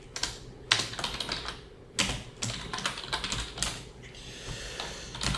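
Fingers type on a computer keyboard while writing a LaTeX document, producing quick irregular bursts of clicking keystrokes broken by short pauses, close and clear with no speech.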